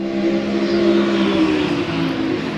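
A BMW race car in a 24-hour endurance race at Silverstone rolls into the pit lane, its engine a steady, moderately loud droning hum with no break.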